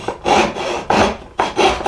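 Hand saw cutting wood at an angle along a shoulder while making end frames, three rhythmic rasping strokes close up, each pushing through the grain, with no talking.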